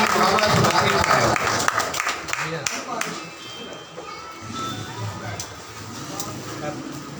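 An audience claps to welcome an honoured guest at a central meeting of Tanzeem al-Ghaffari Pakistan in Sangla Hill; scattered applause runs beneath someone speaking into a microphone and then fades to a softer patter.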